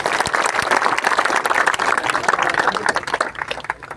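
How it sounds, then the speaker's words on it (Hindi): Dense, steady clapping from a village gathering crowd at a community tea event in Singhani, Lohanu, sustained across the clip with some voices mixed in. "तालियां बजाओ शाबाश।"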